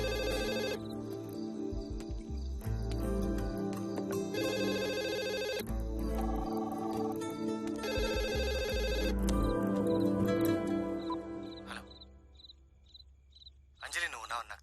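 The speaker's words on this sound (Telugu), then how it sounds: "ల్యాండ్ లైన్ ఫోన్ చేయన్నా" A landline telephone rings in a Telugu feature film scene, repeated ringing bursts layered over a loud, dense musical score, with the tone pattern standing out near the end.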